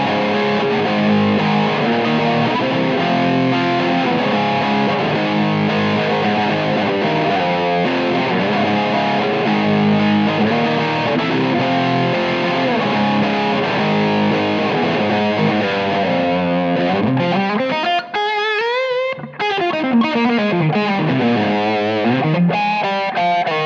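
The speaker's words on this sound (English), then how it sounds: "After that comes distortion." Loud, sustained distorted guitar through a Marshall-style tone preset on a Fractal FM3, playing a gritty riff, then bending into wavering, swooping notes near the end.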